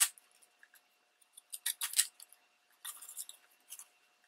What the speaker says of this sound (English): And then I just went around and cut out all those little